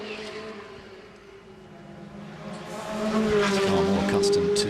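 A Pikes Peak race car, a 26-year-old machine built for Colorado gravel roads, powers up the Goodwood Festival of Speed hill climb. Its engine note is a loud, continuous drone that climbs in pitch and swells as the car draws closer.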